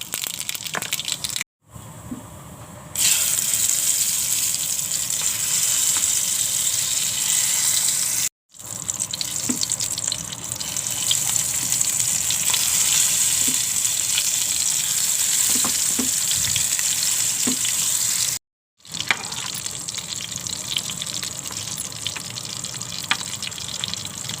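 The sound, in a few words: mustard seeds and cumin sizzling in hot oil in a kadai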